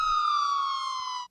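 Air raid siren wailing across Seoul, a single sustained tone held loud and steady before it cuts off abruptly, with an older broadcast-like quality.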